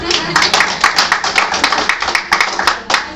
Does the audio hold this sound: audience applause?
yes